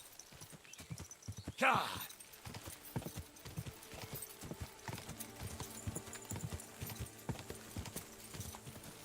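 A horse in the video game Kingdom Come Deliverance 2 clip-clops along at a steady, rhythmic pace, hooves close and moderately loud, after a brief sharp shout near the start.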